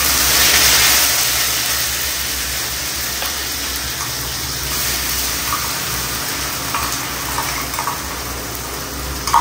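Onion paste, made from four medium onions ground in a mixer, frying in hot white oil as a steady broadband sizzle, loud at first and easing slightly, with faint clinks and no talking.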